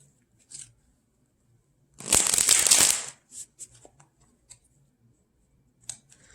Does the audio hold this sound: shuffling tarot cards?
yes